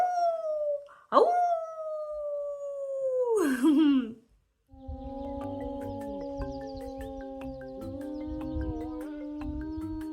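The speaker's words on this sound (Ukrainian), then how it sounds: "Вовк виє на місяць." A long, wavering howl rises then slides downward, with a short yelp-like call before it; after a brief gap, light music plays on steadily.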